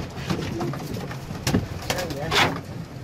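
Pigeons coo softly in a loft among Turkish pigeon keepers, a few low throaty calls scattered under rustling and background voices, with a female tumbler pigeon nearby.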